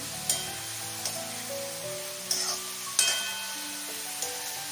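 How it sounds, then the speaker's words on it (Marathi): Brinjal (eggplant) sizzling softly in a pan on the stove, with a few clinks of the spoon stirring and steady frying noise, moderately quiet with a tonal hum underneath. "गॅस थोडा मोठा करते आणि आपली वांगी परतली जाते"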